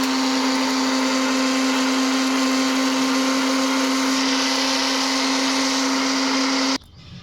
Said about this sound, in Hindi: इसको पेस्ट बनाएंगे मिक्सर में पीसकर